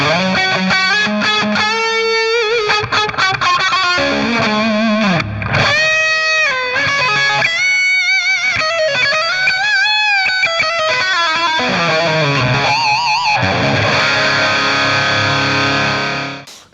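An electric guitar runs through an ODR1X gain pedal into an amp simulator, giving a continuous overdriven lead line with bends and sustained notes, loud and close, with no speech.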